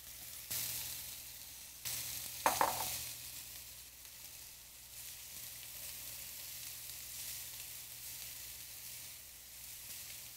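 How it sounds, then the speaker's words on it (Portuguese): Leek hitting hot olive oil in a pan for a leek pie, a steady bright sizzle that bursts in with a few crackles and stirring scrapes, then settles into a continuous hiss with no talk. "Quando ele estiver aquecido, eu vou colocar o alho poró."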